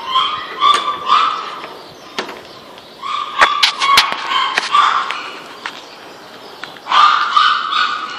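Several dogs in kennel runs bark in near, sharp bursts, some yipping and whining, with clusters of barks separated by short pauses and a faint background hiss.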